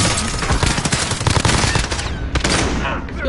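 Heavy gunfire in the video game Warzone, with loud, continuous automatic bursts that overlap into a dense barrage and fill the whole stretch.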